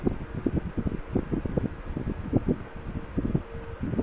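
An electric fan runs steadily nearby, producing a constant whooshing airflow with soft, fluttering buffeting against the microphone and no speech.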